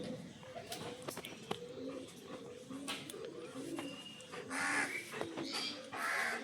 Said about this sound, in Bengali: মাথার উপর কাক বসে আছে।